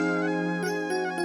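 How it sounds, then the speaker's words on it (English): Pulse lead 1 synth preset from the Xenology pack, playing sustained bright tonal notes alone in an FL Studio beat. The notes change in short steps over a steady held tone, with no voices. "This first one, pulse lead 1 out of Xenology"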